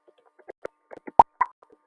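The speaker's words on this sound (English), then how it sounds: "you can hear the pop sound" The Scratch pop sound effect plays as a scattered series of short, soft pops and blips, with one sharper, louder pop in the middle standing out against silence.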